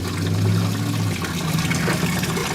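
Water rushes and burbles around a boulder set into a small placer gold stream model, a loud continuous gurgling flow with no voices.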